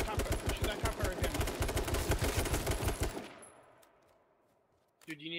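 Rapid automatic gunfire in the H1Z1 game, a loud close burst of evenly spaced shots lasting about three seconds, then fading to quiet before a short clatter at the end.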